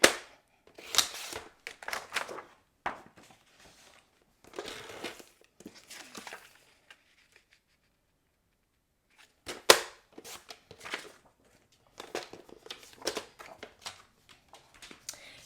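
Cardstock mat for a pop-up birthday card is cut down to 4 by 5 1/4 inches. Crisp, sharp slicing and paper crackles come in short clustered bursts, separated by quiet pauses, close up with no talking.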